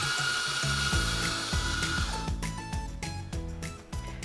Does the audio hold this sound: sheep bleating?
no